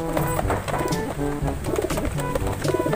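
Dense, overlapping cooing from a flock of pigeons in a loft, steady and close, low throaty calls repeating continuously with no talking.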